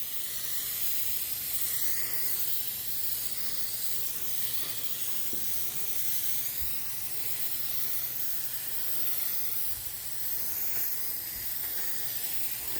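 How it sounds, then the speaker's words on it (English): Rust-Oleum frosted glass spray paint hisses from an aerosol can in a long, steady, close spray with slight pulses, heard alone without talk. "We're just going to spray a really nice kind of a monotone spray over this thing."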